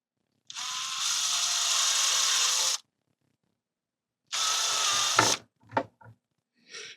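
A power tool cuts near the aluminum bed plate of a Kobra S1 3D printer in two buzzing bursts of about two seconds and one second, followed by a few short clatters and taps.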